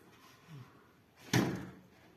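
The small glass door of a repainted, wood-look coffee table display cabinet closes with a single sharp knock and a short ringing tail, after a faint soft rustle; quiet and close, with no talking.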